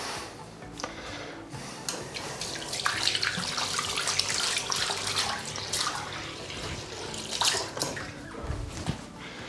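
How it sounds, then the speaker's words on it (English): Tap water splashing and running against bathroom mirrors during cleaning, a steady broadband wash with brief louder splashes and clatter, close and continuous with no talking. "I have literally just splashed water on the mirrors"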